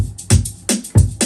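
Short stretch of a dance beat with a shaker added over the kick and snare, crisp high shaking hits riding on thumping low drums, close and loud with no talking.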